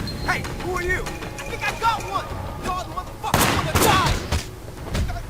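Gunfire in Sleeping Dogs crackles in irregular bursts of sharp shots, louder toward the end, mixed with game effects and a voice talking over the action.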